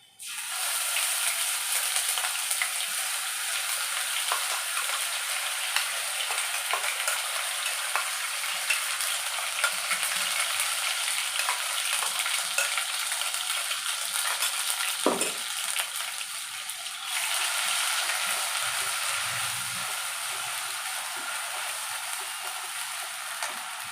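Spice paste poured into hot oil for Bengali tel koi fish curry, giving a steady, loud, hissing sizzle that runs unbroken, with occasional faint clicks and utensil taps.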